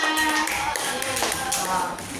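A classroom group claps together for a couple of seconds. The sound is dense, moderately loud and fairly close, with a few voices mixed into the clapping.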